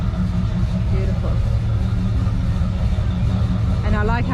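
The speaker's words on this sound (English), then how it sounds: "What engine do you have there? That's a 428 Ford." A 428 Ford V8 in a custom truck at a Goodguys rod and custom event rumbles steadily at idle, a loud, continuous low drone close by, with a voice briefly rising over it near the end.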